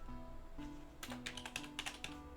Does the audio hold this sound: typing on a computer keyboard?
yes